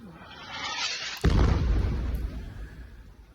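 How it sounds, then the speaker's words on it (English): Nighttime airstrike hitting a school sheltering children in Khan Yunis, a sudden heavy blast that cuts in after a low rumble and leaves a loud, sustained roar of debris and echo with no voices. "Video obtained by the Reuters news agency shows the moment of impact, sending sparks flying and clouds of smoke billowing into the night sky"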